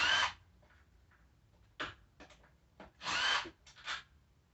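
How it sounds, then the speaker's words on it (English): A HART impact driver with an 8mm socket backs short screws out of a 49cc–150cc GY6 scooter transmission case, sounding in several brief, loud whirring bursts separated by short quiet gaps. "I'm using this impact wrench. I want to see how it does. Impact driver."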